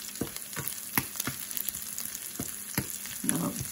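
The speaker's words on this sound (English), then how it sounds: "you can hear it sizzling" Ghee crackling and spitting in a hot pan, with sharp pops scattered over a steady frying hiss, close by.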